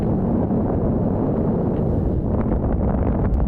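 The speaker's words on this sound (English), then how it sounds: "Oh boy, so windy." Strong mountain wind buffets the microphone on a hike around Lago Sorapis, a loud, continuous roaring rumble that surges slightly without pause and with no talking.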